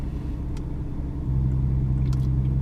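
A 600-horsepower sports car switched into Sports Plus mode with its exhaust valves open idles with a low rumble that steps up to a deeper, louder drone partway through.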